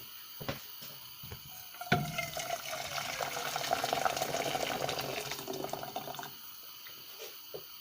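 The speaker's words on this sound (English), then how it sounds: "now that the water is on a rolling boil" Water at a rolling boil in a pot on a hot kitchen stove, a continuous bubbling and hissing that swells in the middle and fades near the end, with a few knocks around it.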